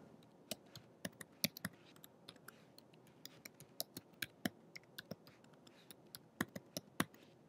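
An email address and password are typed on a computer keyboard, a run of quick, irregular, crisp key clicks close by with short pauses, quiet background, no speech.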